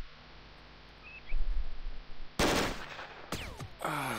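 Gunfire in the video game Jagged Alliance 2 (1.13 mod): a quiet background that breaks into two sharp, loud shot bursts, each with a ringing decay, and a third blast at the very end.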